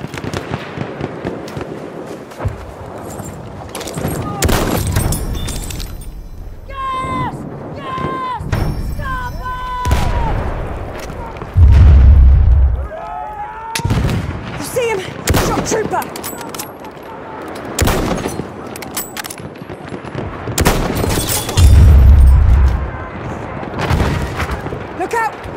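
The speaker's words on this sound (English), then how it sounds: "That's an enemy machine gun!" Enemy machine gun fire in Battlefield 1, with repeated bursts, distant booms and explosions in a chaotic battle, and soldiers shouting over the gunfire at intervals.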